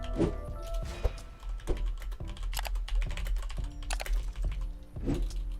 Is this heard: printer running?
no